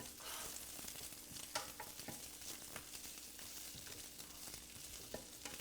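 Shrimp fry in a pan with a steady, bright crackling sizzle, punctuated by a few light spatula stirs and scrapes, fairly quiet and with no talking.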